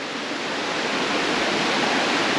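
A river rushes steadily through Hakaui valley on Nuku Hiva, a loud, continuous broadband roar of flowing water close by with no voices.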